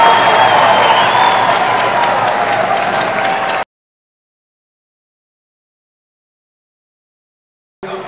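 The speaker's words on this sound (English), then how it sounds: "And that crowd responds." An ice hockey crowd at a Cardiff Devils versus Coventry Blaze game cheers and applauds in a dense, roaring wash that stops abruptly after a few seconds and briefly returns at the end.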